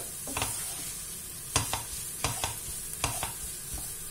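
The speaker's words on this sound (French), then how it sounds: "je continue quand même de mélanger sur le feu" Chicken and vermicelli in sauce stirred over the heat for chicken-and-olive cigars, a soft low sizzle broken by a handful of sharp spoon scrapes against the pan at irregular intervals; no one talks.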